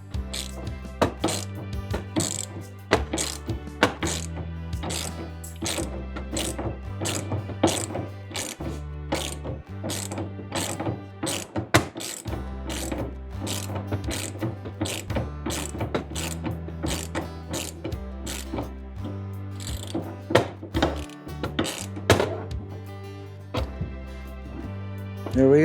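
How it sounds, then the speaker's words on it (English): A hand ratchet loosens a 50 Torx bolt on a car's hood support strut, clicking in a steady rapid rhythm of repeated pawl ticks with brief pauses between strokes, close and clear. "We'll see how tight this 50 Torx is on this side."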